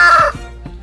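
A chicken lets out one loud, brief squawk up close, then a couple of softer clucks follow.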